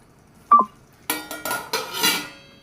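A metal lid goes onto a pot of broccoli curry seasoned with coriander powder and garam masala. One light clink is followed by a run of louder metallic clatters and rattles nearby.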